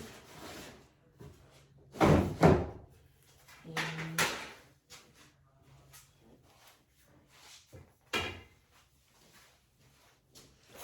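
Scattered knocks and sliding thuds of a drawer being pulled open and pushed shut, a couple of sharper bangs among quieter rummaging, with a brief spoken word.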